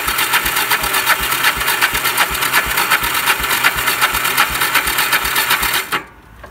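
ATV engine being started with the choke on and the throttle worked, running loud and close with a steady rapid knocking beat for about six seconds before cutting off abruptly.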